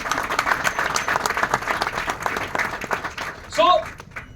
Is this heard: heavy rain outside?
no